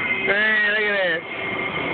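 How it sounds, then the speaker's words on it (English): A train passing nearby with a high metallic wheel squeal that bends in pitch over a rumbling rail clatter. "record this train going by"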